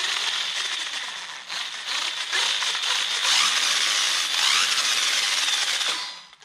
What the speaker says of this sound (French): Franchement, les deux ventilos se mettent bien en route.